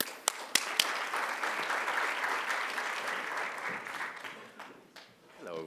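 A conference audience applauds to welcome a speaker at a legal technology event on contextual AI, steady sustained clapping from a crowd with a few sharp nearer claps at the start, fading toward the end.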